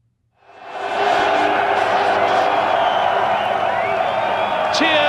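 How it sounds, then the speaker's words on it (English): A large grandstand crowd at the 1992 British Grand Prix roars and cheers for Martin Brundle hoisting his podium trophy, the noise swelling in over a second and holding as a dense, sustained wall of cheering, whoops and applause. "Brundle got a cheer almost as big as Mansell's when he hefted his trophy"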